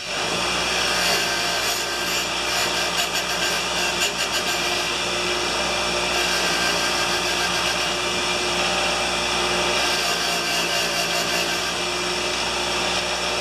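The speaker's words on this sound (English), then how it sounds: "I've got my other grinder, and I use the wire brush just to take off the marks from the grinder" Grinder fitted with a wire brush cleaning the end of an engine valve from a 4HP Tecumseh motor, a constant close, loud abrasive whirring and scraping that runs without a break.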